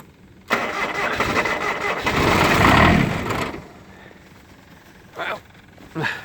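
A car engine cold-starts on a freezing winter day, cranking briefly before catching and settling into a loud, steady run, with a couple of short bursts of sound trailing after it.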